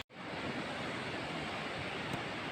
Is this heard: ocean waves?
yes